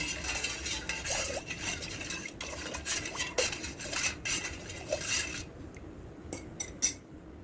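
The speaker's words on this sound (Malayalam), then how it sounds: "നമ്മൾ ഈസ്റ്റ് ചേർത്ത് ഇളക്കി കൊടുക്കുന്നത്" A spoon stirs a beetroot wine mixture with added yeast in a vessel, giving repeated scraping and clinking strokes against the sides, close and fairly loud, before ending in a few sharper taps with no voices.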